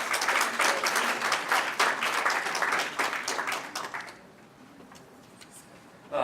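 An audience applauds speakers at an indoor community event, dense clapping for about four seconds that thins into a few scattered claps before fading.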